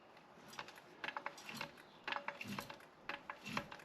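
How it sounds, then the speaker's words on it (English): A car jack is lifted under a 2003–2009 Toyota Camry, giving a series of faint, rhythmic mechanical clicks and ratcheting strokes, fairly quiet and close, with no talking. "Bring our jack over. Get right in that spot. Start lifting."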